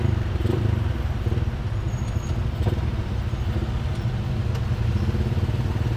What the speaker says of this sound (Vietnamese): Đi đằng sau có cái mô tô